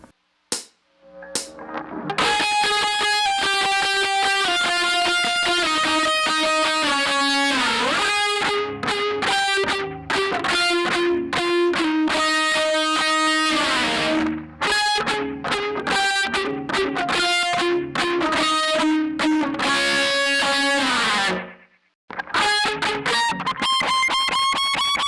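A distorted electric guitar plays a solo of octaves, pedal tones and slides up the neck, loud and continuous with sustained notes and brief breaks near the start and end.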